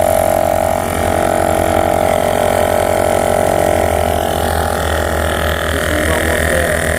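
A LASFIT portable tire inflator air pump runs steadily as it struggles to fill a car tire, a loud continuous motor drone with a rapid pulsing chug that holds for several seconds, close and alone without talk.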